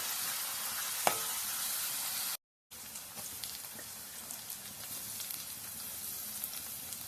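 Onion frying in oil for a crab masala curry, a continuous crackling sizzle with a sharp pop near the start and a brief silent break before the hiss resumes.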